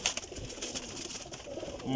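Pigeons in a pigeon seller's flock coo faintly beneath a busy, noisy background, soft low calls close by and hard to pick out from the general din.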